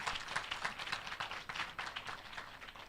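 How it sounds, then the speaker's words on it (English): Audience applause breaks out after a live gospel song at a tertiary education forum: a steady, moderately loud wash of many hands clapping, with no voices. "Can we give her another round of applause"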